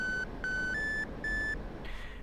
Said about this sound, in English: Every time a new thing comes on your RWR, there will be a little beep.